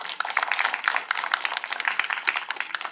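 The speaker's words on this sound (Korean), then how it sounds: "박수 한번 부탁합니다" An audience at a 50th-anniversary commemorative academic forum claps to welcome a speaker. Close, crisp hand claps overlap in a busy, lively patter that holds steady throughout.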